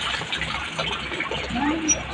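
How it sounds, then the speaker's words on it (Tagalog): Water runs steadily into a dog bath, a continuous close splashing fill with a faint bird cooing somewhere in the background. "Lagyan lang natin ng tubig ang ating kapaliguan ng aso."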